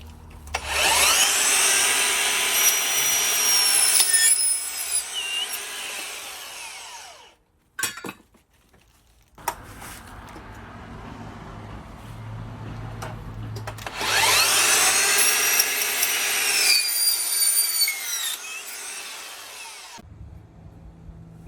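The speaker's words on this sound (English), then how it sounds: "We always recommend using a miter saw." Two long passes of a miter saw cutting wooden gate rails, each a loud whining spin-up and bite through the wood lasting several seconds, with a quieter motor run-down and a few clunks between them.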